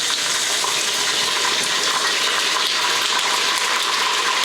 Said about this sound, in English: I'm going to add the jars of sauce